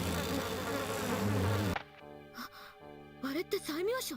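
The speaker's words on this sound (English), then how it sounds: "It's the bees." Dense buzzing of a bee swarm in the InuYasha video game fills the first half loudly, then gives way to voices talking over music.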